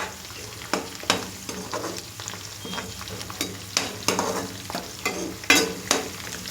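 Washed curry leaves frying in hot oil for a mixed okra and cucumber curry, a steady sizzle punctuated by repeated sharp crackles and pops as the leaves hit the oil and are stirred.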